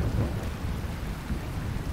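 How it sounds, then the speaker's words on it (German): Steady rain with low rolling thunder in the farming game Lightyear Frontier, a continuous dense rumble and patter filling the whole stretch with no voices. "Und es regnet, das ist sehr schön."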